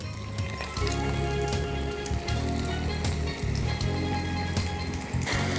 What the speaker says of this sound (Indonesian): Daging dada ayam yang telah diiris tadi dipotong, segera kita lumuri dengan tepung sagu dan kita goreng. Langsung digoreng seperti ini.